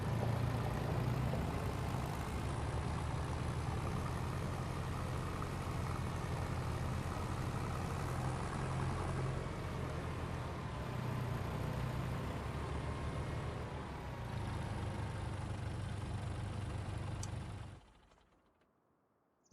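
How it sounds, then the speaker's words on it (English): A tractor engine runs steadily and loudly at close range with a strong low rumble throughout, then cuts off abruptly near the end, leaving near silence. "That tractor's actually pretty loud,"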